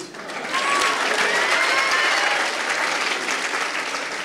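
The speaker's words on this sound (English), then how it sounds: "On peut maintenant applaudir la chorale qui revient sur scène." Applause from a concert audience as a choir returns to the stage at a school year-end concert, a dense, steady roar of clapping that swells in within half a second and holds loud throughout with no talk.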